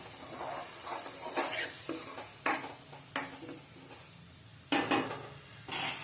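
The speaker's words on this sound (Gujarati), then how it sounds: "એને પણ સાથે સાતળી લેશું।" Whole potatoes sautéing in oil with a homemade spice mix of cumin, coriander and fennel: a soft, quiet sizzle underlies several sharp scraping stirs of a spoon against the pan, coming in irregular bursts.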